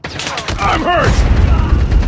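Gunfire in the video game Call of Duty Mobile: a rapid burst of shots followed by continuing crackling fire and impacts, close and loud.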